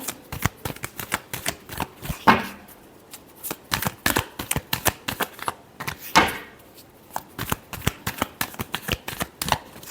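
A deck of tarot cards is shuffled over and over in quick, crisp riffles and flicks, close and clear, with brief pauses between bursts and no talking.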